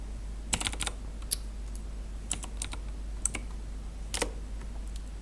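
Typing on a computer keyboard, with scattered short bursts of clicky keystrokes separated by pauses over a low steady hum and faint background hiss.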